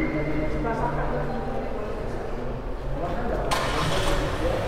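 A Chirey Tiggo 7 Pro SUV starts from its keyless push button, a steady engine rumble turning over and settling into a close, loud idle, with a voice speaking over it.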